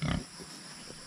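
A sow on a backyard pig farm lets out one short, loud grunt at the very start, followed by quiet pen ambience.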